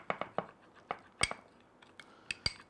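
A spoon clicks and taps against a small bowl while aloe vera gel is mixed with raw turmeric. The sounds are a scattered series of quiet, close, light knocks with no speech.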